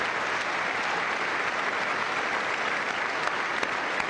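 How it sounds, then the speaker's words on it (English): A State of the Union audience applauds Andrew with dense, steady, sustained clapping that holds an even level throughout, with no voices standing out. "We'll applaud Andrew for another hour and a half."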